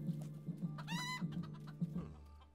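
Chickens in the video game El Hijo cluck repeatedly in a soft, rhythmic series of short clucks with one longer squawk, faint and without talking.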